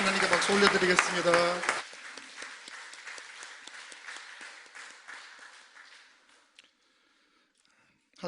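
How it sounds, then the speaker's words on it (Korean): A congregation at a Sunday church service claps after a sung hymn ends. Singing voices open the passage, then scattered clapping continues and fades into silence. "하나님께 박수 올려드리겠습니다"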